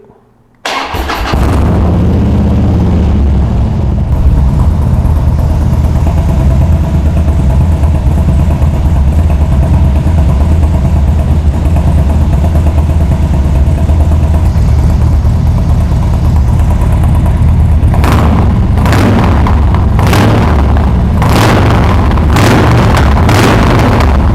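Fully tuned Harley-Davidson Dyna Street Bob motorcycle cranks and fires up, then settles into a loud, steady, throbbing idle close by, with several sharp revs blipped near the end.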